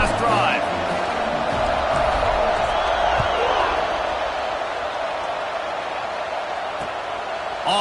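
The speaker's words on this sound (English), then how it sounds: "this crowd is feeling themselves after that last drive." A college football stadium crowd at Penn State versus South Carolina roars in a broad, sustained wash of cheering after a scoring drive, with a commentator talking over it.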